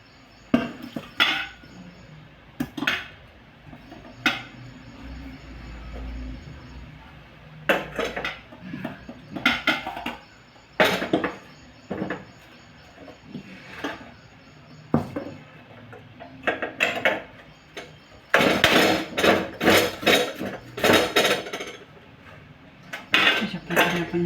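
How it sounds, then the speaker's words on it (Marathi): A cucumber rubbed against a hand grater while making kakdiche thalipith, with scraping strokes in irregular bursts, close and fairly loud, and clinks of the metal grater against a dish between passes. "आणि दुसरी आता किसते इथे"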